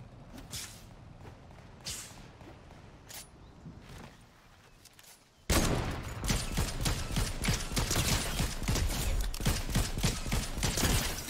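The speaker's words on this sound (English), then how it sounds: "Someone shooting back here." Gunfire in a Fortnite solo match: rapid bursts of loud shots close by that start suddenly partway through, after a quieter stretch of game ambience.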